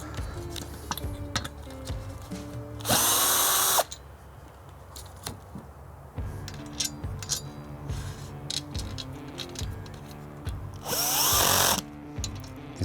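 Power screwdriver re-fixing motorcycle luggage bag hooks onto a rack: two loud, steady whirring bursts of a few seconds each, separated by light metallic clinks and handling taps, with no talk.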